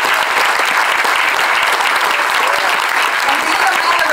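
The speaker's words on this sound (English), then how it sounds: "And I want y'all to clap for that." Loud, dense audience applause, many hands clapping steadily and evenly at close range without a break, with a faint crowd murmur mixed in.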